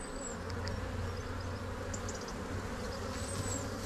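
Honey bees work inside an open beehive during an inspection, giving a steady, close, even buzzing hum that carries on without a break and has no voices over it.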